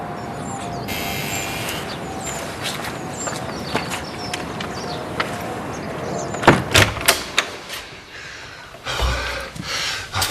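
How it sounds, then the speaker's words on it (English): A door is opened in a television drama scene, with a series of sharp clicks, knocks and thuds from the latch and frame plus shuffling footsteps against a faint room background. "You will open the door."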